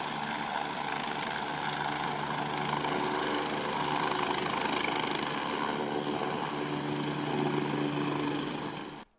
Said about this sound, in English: You just saw a Lifelight helicopter landing in the Roosevelt High School parking lot only moments ago.